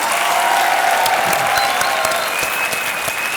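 Studio audience on a Hindi television game show applauding after a song, a dense, steady wash of clapping close and loud that continues evenly throughout.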